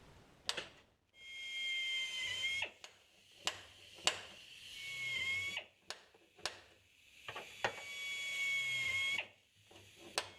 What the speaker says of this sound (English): let's start drilling up some holes